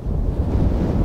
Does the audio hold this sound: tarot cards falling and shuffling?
no